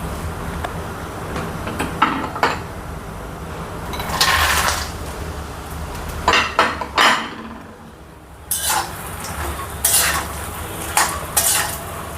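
Makhana (fox nuts) stirred in hot ghee in a pan, giving intermittent scraping and clinking bursts of a spoon against metal over a soft steady sizzle, fairly close and without talk.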